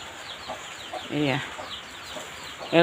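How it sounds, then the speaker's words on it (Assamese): Chickens cluck in short bursts, with one louder, drawn-out call in the middle, over a steady background hiss of rainy weather. "গোটেই মুৰ্গীয়ে কিবাহে মুঠতে সেই যিমান যি বস্তু আছে চব খুচৰি আছে"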